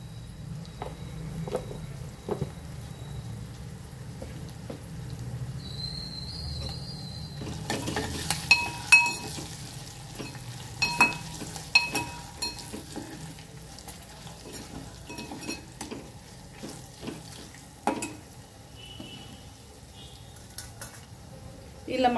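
Intermittent scraping and clinking of a utensil stirring salted curry in a frying pan, with clear metallic taps and stirs over a soft background hum, the kitchen otherwise quiet.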